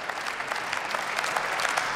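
CDU/CSU members of the Bundestag applaud in a steady, moderate patter of clapping that lasts the whole two seconds.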